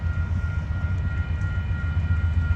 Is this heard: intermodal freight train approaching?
yes